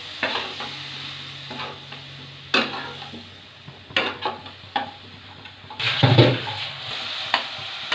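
Spatula scraping and stirring tangra fish curry with spices and a little hot water in a sizzling pan, close irregular strokes and clanks over a steady low frying hiss.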